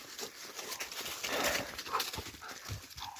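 A pet dog whimpers softly close by, with scuffling and rustling noises outdoors; short whiny cries rise over a rough, shifting background.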